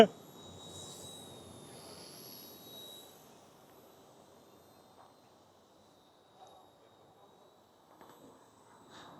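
A thin, high-pitched motor whine of a small RC helicopter hums faintly at a distance, louder at first and then fading, with soft background noise.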